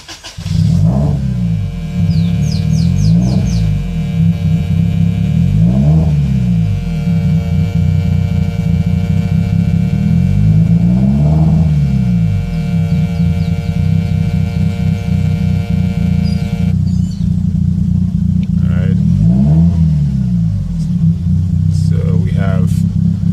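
A Toyota 3SGE Altezza engine idles on Speeduino fuel injection with a steady, loud rumble that rises and falls in slow surges, and someone talks over it.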